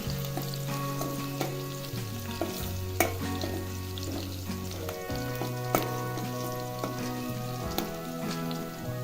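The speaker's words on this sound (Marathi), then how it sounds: "मिरच्या लसूण आता चांगलं भाजून घ्यायचं आहे" Green chillies and garlic roasting in a pan make a continuous crackling sizzle while being stirred, with scraping clicks over a steady low hum and no voices.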